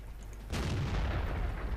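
A tank cannon fires in World of Tanks while previewing the STB-1 on a test server: one loud, close boom hits after a brief quiet lead-in, then a rumbling tail sustains to the end.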